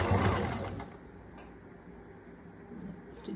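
A sewing machine runs continuously while stitching a princess cut blouse, a steady close mechanical hum and rattle that is loudest at the start and then settles to an even level.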